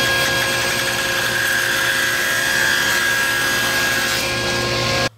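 A maple board is fed through a saw to trim its edge parallel to the fence, giving a loud, steady whine of blade and motor that holds for several seconds and cuts off abruptly at the end.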